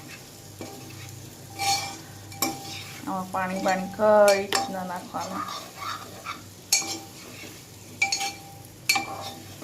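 Spiny gourd stir-fried in a pan of tempered spices, giving a close sizzle with stirring scrapes and light utensil clinks, while someone talks over the cooking.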